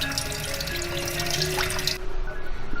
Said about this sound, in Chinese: 杀好的鲈鱼再清洗干净